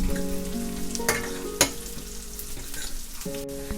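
Chopped hill garlic cloves fry in hot oil for a fish kuzhambu, a steady close sizzle with a couple of sharper utensil clinks and faint tonal hum underneath.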